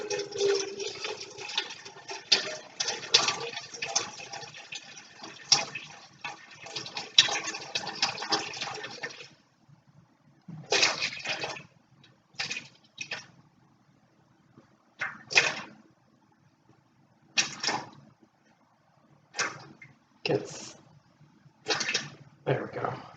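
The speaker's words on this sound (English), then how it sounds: "pour 15 ounces of water into the bucket here." Distilled water poured into a bucket for holiday soap making, a steady splashing pour for about ten seconds followed by several short separate bursts of pouring or dripping, close by.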